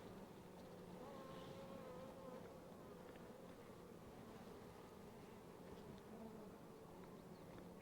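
Honey bees swarm inside an open beehive super in July, a steady, close droning hum that holds evenly throughout with no voices over it.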